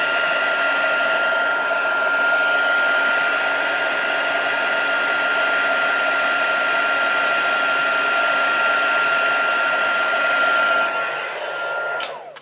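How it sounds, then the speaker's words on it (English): A heat tool blows steadily and loudly for about eleven seconds, melting embossing powder on cardstock, then cuts off and winds down at the end. "Get rid of my heat tool."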